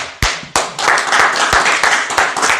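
A church congregation claps and applauds together, opening with a few loud separate claps before settling into steady, dense group clapping close by.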